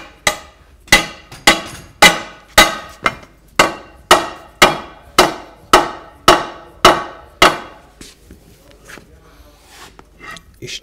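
A hammer strikes about fourteen times in a steady, evenly spaced rhythm. Each blow is sharp and ringing with a short decay, and the sound fades to quieter, scattered knocks near the end.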